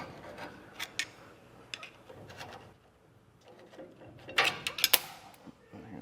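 A drum on a Dexter electric trailer brake being worked back and forth off the hub, giving sporadic metallic scrapes and clunks close by, louder toward the end.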